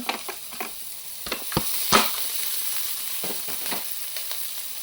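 Chopped green chillies go in with softened onions frying in a pan, making a light sizzle under several distinct scraping stirs and clinks of a spatula, close and clear with no one talking.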